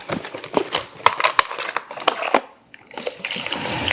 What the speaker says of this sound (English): add my alkaline water